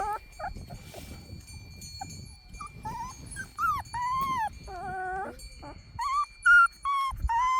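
A 21-day-old black male Jindo puppy whimpers outdoors in wind, giving a series of high, thin whines and yelps in short bursts that grow more frequent, over a low rumble of wind.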